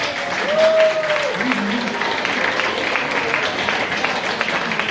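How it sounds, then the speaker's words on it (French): An audience at a film premiere presentation applauds a crew member, steady crowd clapping sustained throughout, with a brief tonal voice-like note near the start. "On peut l'applaudir."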